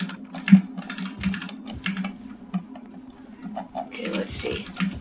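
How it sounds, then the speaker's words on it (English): Rapid clicking of computer keyboard keys in irregular bursts, close and fairly soft, with a voice talking intermittently over the typing. "You guys should be able to hear my keyboard."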